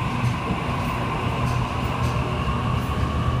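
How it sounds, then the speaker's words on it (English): A Sydney train, service A39, departs platform 18 at Central station with a steady low rumble and hum, a continuous mechanical drone with no voices. "A39 is now departing platform 18."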